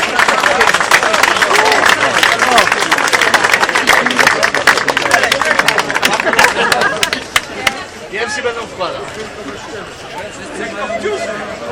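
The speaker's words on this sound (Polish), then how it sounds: "Wielkie brawa dla nich" Outdoor crowd at a monument unveiling in Jarocin applauding a band, dense clapping for several seconds that thins out, mixed with crowd chatter and voices.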